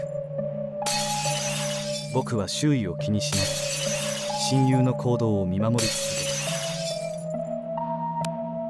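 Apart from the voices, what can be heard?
window glass being smashed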